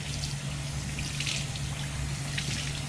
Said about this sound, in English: the water kind of drips off the angora at first